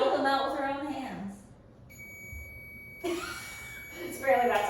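An electronic device gives a steady, sustained high beep tone of about a second, faint and alone between stretches of talk.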